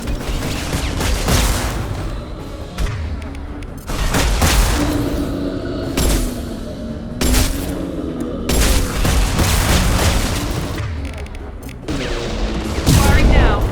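Gunfire from the video game Mass Effect 2, with repeated loud shots and bursts going off through the whole stretch, backed by booming impacts and layered with a constant game soundtrack.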